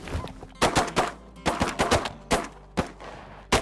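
Hunters' shotguns firing at snow geese, a rapid volley of about eight loud, sharp blasts in irregular clusters, close by.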